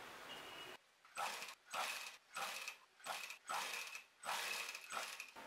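A sewing machine stitches a sleeve in short repeated runs, about six bursts of steady mechanical whirring broken by brief pauses, close and fairly quiet.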